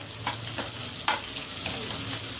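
Green chillies and tomato frying in a pan for kapura masala, a close steady sizzle with a few short scraping stir strokes over a brief stretch, no voices.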